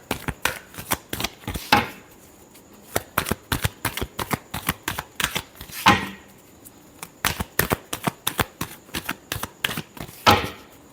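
Tarot cards being shuffled by hand: a quick run of crisp, papery riffles and snaps in repeated close bursts, with no talking.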